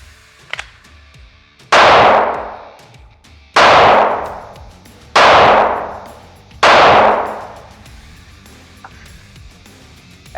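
Four loud, evenly spaced gunshots from a rifle fitted with a Cyelee Chameleon SRS8 sight, each ringing out and decaying before the next, with no talk.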